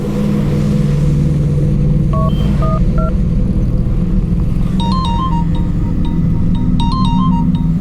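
A telephone rings in short electronic tone bursts, two clusters of beeps laid over a loud, constant low rumble that fills the background.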